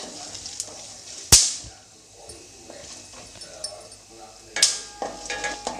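Cashews frying in a pan for khara pongal, soft sizzling under two sharp metallic scrapes of a spoon stirring against the pan, with a few lighter clinks between.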